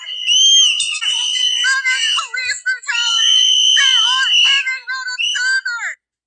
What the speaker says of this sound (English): Notice the whistles, the chaotic scene.